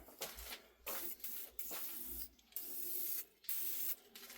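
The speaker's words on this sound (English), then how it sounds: "So I'm going to wipe all that top over, a bit of WD-40," WD-40 sprayed in several short bursts alongside rubbing as the top of a 1968 Kerry AG mk2 lathe is wiped down, hissing and scrubbing passages separated by brief quiet gaps, close and fairly quiet.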